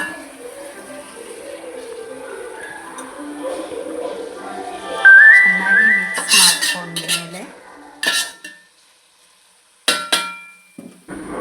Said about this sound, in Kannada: ಇದಕ್ಕೆ ಮಟನ್ನ ಆ್ಯಡ್ ಮಾಡಿಕೊಂಡು ಚೆನ್ನಾಗಿ ಮಿಕ್ಸ್ ಮಾಡ್ಕೊಳ್ಳೋಣ